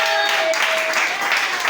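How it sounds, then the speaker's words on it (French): A church congregation applauding, a dense, loud, continuous wash of clapping from a crowd with no gaps. "Acclamez très fort"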